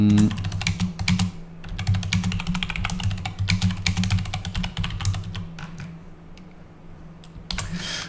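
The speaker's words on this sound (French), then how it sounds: "je tape un petit texte" Steady close-up keystrokes on a computer keyboard as an email is typed out, with bursts of quick clicks, short pauses and a low hum underneath, and no talking.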